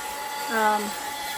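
A small handheld vacuum cleaner hums steadily while cleaning a pantry's bottom shelf, a close, even whir that runs throughout, with a brief voice rising over it midway.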